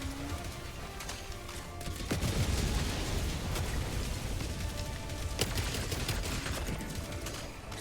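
A whole gun magazine emptied into a tank in the Helldivers 2 video game, a continuous dense rattle of shots and impacts over rumbling battle noise, steady and fairly loud.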